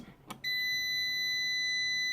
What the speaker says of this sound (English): does a beep, and it goes on.